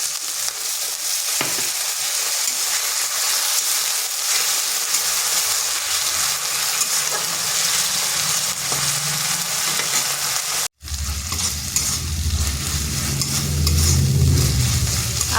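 A little water is added to ginger and garlic frying in a pan, a soft steady sizzle with stirring scrapes, then a brief drop before a louder burst of bubbling and hissing, no voices.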